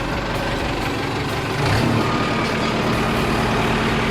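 A used tractor with about 8000 hours on it runs its engine at low revs, a steady loud diesel rumble with a faint tonal whine, held close and continuous with no talk.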